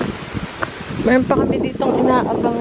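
Strong wind blowing outdoors, buffeting the microphone in loud gusty rumbles while a person speaks throughout.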